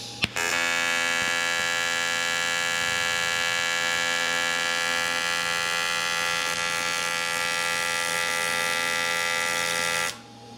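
Steady loud electric buzz with layered harmonic hum from a welder joining small metal side pieces for a 1980s boat dashboard, running continuously for about ten seconds with a sharp start and stop, no talking.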